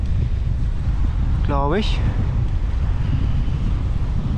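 Strong wind buffeting the microphone while cycling along a dike by the water, a constant loud roar that fills the whole clip, with a brief spoken remark in the middle.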